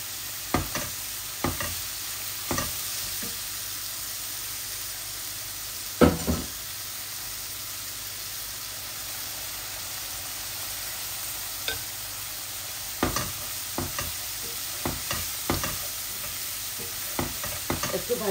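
Dried kachki fish curry frying in a pan, with a steady low sizzle and a series of sharp scraping knocks from stirring at irregular intervals, close and moderately loud.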